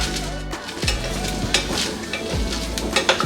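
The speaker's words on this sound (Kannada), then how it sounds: "ಲೈಟಾಗಿ ಇದು ಕಲರ್ ಚೇಂಜ್ ಆಗೋ ತನಕ ಹುರ್ಕೊಳ್ಳೋಣ" Spices dry-roasting in a pan for a sweet pumpkin sambar, with a steady close sizzle and repeated scraping stir strokes of a spoon against the metal.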